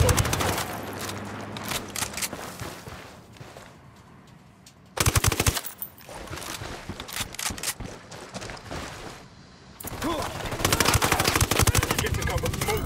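Rapid bursts of automatic gunfire from a Ghost Recon Wildlands firefight, loud and dense, broken by a quieter stretch before heavy firing resumes, with occasional voices mixed in.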